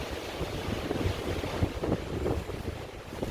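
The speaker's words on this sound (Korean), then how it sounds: "아 오늘 바람은 많이 불고요 이 바람 부는 거 보세요" Strong wind buffets the microphone at the mountain observatory on Joyangsan in Jeongseon, Gangwon, making a loud, continuous rumbling roar with no talking.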